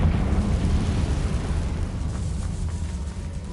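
The Confringo fire spell from Hogwarts Legacy erupts in a loud, booming blast whose rumble slowly decays over a few seconds, with no voices.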